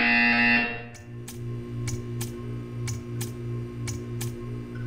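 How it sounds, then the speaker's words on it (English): Portal 2 test-chamber buzzer: a quick run of evenly spaced, clicking buzz pulses over a steady low electronic hum, following a brief louder tone at the start. "When you hear the buzzer, stare at the art."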